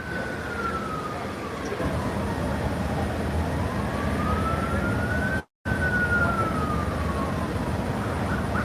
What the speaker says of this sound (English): They got an ambulance coming.